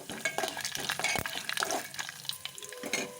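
Mustard seeds and cumin crackling in hot oil for a pulihora tempering with peanuts and chana dal, heard as scattered pops and a stirring scrape, with a sharp clatter near the middle and no talk.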